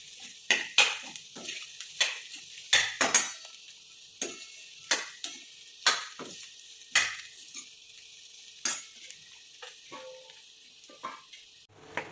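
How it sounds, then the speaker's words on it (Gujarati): Boiled potato pieces mashed in a bowl with a utensil: close, crisp clacks and taps strike the bowl at an irregular, steady pace, with soft squishing between hits and no talking. "બટેકાના ટુકડા તમારે થોડા થોડા આવી રીતે મેશ કરવા હોય તો તમે કરી શકો છો"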